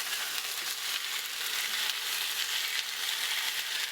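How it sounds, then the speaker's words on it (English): Steady, dense sizzling of chicken pieces sautéing in a hot pan, a continuous crackling hiss with no pauses and no voices. "kind of like saute the meat first"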